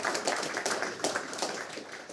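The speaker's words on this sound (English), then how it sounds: "Let's give these guys such a warm clap." Audience at a South Waikato property seminar session giving a warm round of applause, a dense, steady wash of many hands clapping together without a break or any talk.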